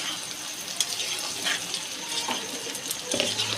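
Fried potatoes and paneer are stirred in a spiced pan, giving soft continuous sizzling with faint scraping strokes, fairly quiet and with no talk.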